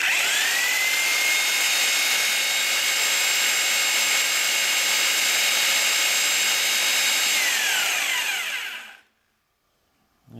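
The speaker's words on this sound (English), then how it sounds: "Alright, I'm gonna fire up the drill." A power drill whines at a steady high pitch for about nine seconds, loud and close, during work on a V8 Miata build. Its pitch rises sharply at the start and falls away near the end, followed by near silence.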